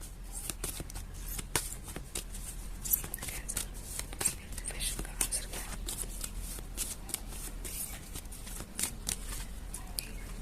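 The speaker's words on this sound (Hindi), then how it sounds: "तब तक मैं शफल करती हूँ।" Tarot cards are shuffled by hand in quick, repeated riffling bursts, crisp and close, with a soft voice faintly present underneath.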